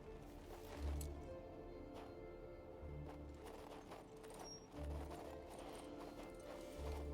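Horse hooves trot in the video game King's Bounty II, a steady clip-clop rhythm of footfalls over a constant game soundscape, with a few heavier hoof thuds standing out at intervals.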